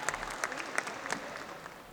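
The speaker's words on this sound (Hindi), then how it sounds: "जोरदार तालियों के साथ" Audience applause at a poetry recital, a mushaira and kavi sammelan, with a quiet crowd clapping in scattered, steady patter that stays fairly soft and distant throughout.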